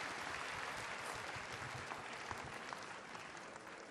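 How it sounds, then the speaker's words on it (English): An audience at a StarCraft II Heart of the Swarm convention panel claps for the panelists, a dense, steady wash of applause from a large crowd, fairly distant and unbroken throughout. "How about one last round of applause for our panelists?"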